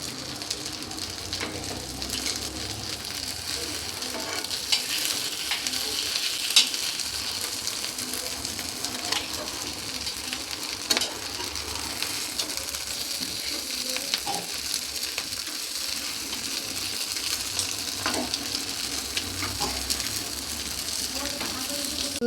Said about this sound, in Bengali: ওই দেখুন কত সুন্দর হচ্ছে, বাটারগুলো ফুটছে।